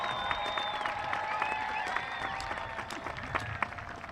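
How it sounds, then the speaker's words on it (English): Sustained applause from a crowd at a 2024 high school graduation ceremony, thick clapping mixed with whistles and a few cheers throughout. "Give them a round of applause"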